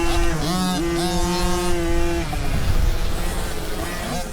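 Two-stroke motocross bike engine at full throttle during a race, a loud buzzing rev that holds high pitch, drops briefly on a shift, then surges again up the back straight.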